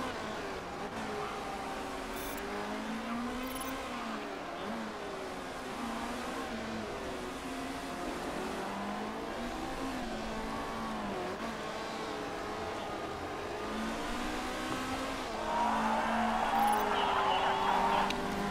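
Race cars in the Motorsport Manager game rev and whine past in a steady stream, engine tones sliding up and down through gear changes, growing louder toward the end as more cars close in.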